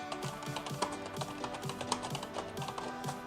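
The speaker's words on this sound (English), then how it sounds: "as you can hear when I type" Someone types on a Razer Deathstalker Chroma gaming keyboard with low-profile 2 mm chiclet keys, making quiet, soft, quick taps in an uneven rhythm under faint background music.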